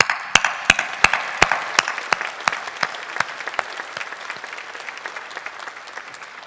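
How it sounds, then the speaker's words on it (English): Audience applause at a medical school commencement ceremony: several loud sharp claps near the microphone over a broad crowd wash, gradually thinning and fading. "give you a round of applause"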